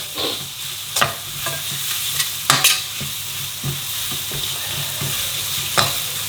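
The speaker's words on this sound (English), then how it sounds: "So I'm just going to fry that off a bit for the chilies and all that to just cook off a bit." Chilies and spices frying in a pan for a fiery phaal chicken curry: a constant close sizzle punctuated by sharp spoon-against-pan stirs and clanks at irregular intervals.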